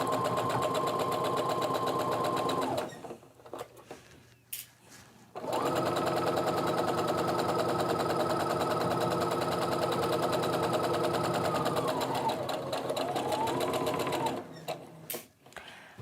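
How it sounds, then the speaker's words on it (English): A sewing machine stitches pieces of a quilt top in two long, loud, steady runs, with a short pause in between and a brief quiet at the end. "it sometimes helps to put your hand back here and just kind of guide the fabric through as you're sewing."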